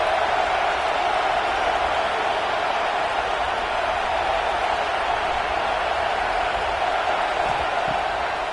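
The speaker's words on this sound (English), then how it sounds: "Big third down as the crowd gets behind this defense." A football stadium crowd roars on a big third down, a steady, loud, unbroken wall of cheering noise throughout.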